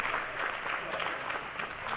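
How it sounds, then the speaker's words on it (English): Crowd applause at a professional tennis doubles match in Dallas, a steady wash of clapping that holds for about two seconds at moderate, fairly distant level. "Crowd loves it."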